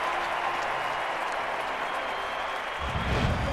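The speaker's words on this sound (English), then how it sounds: "the bigger the crowd noise on this strikeout here to A-Rod" A large baseball crowd at a 2009 Twins playoff game roars and applauds after a strikeout of A-Rod, a broad sustained wash of cheering and clapping that swells louder near the end.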